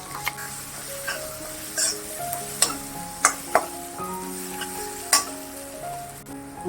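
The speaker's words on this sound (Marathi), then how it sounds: "मिक्सर मधलं जे वाटण आपण केलंय त्याच्यात ते परतून घ्यायचे आपल्याला।" Ground raw mango paste sautéing in a pan gives a soft, steady sizzle, broken by several sharp clicks and taps of a spoon against the pan, with a low background hum and no voices.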